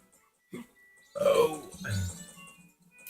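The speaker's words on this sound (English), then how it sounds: "all the burps have to come out right now" One loud, throaty burp from a man breaks through casual podcast chatter, with quieter voiced sounds before and after it.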